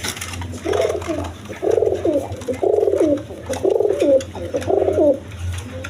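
Pigeons at a breeding farm coo in five or six close, rhythmic phrases, each a low rolling burble with short pauses between, over a faint background hum.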